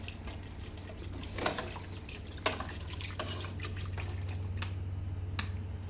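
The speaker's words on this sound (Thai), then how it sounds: "เราก็จะใส่น้ำเติมน้ำลงไป" Water is poured into a pot of glass noodle chicken curry, giving a steady trickling, splashing pour with a few sharp drips over a constant low hum, close and fairly quiet.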